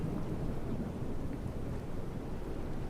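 Steady rain and low thunder rumble on a stormy night in a Roblox zombie game, a continuous dense wash with no clear breaks and no talking.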